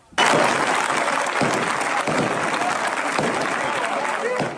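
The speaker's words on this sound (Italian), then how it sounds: "Quindi l'applauso liberatorio dei fedeli." Loud, sustained applause from a crowd of faithful at a religious procession in Sicily after a heavy wax candle fell into the crowd, dense clapping filling the whole clip with no voices over it.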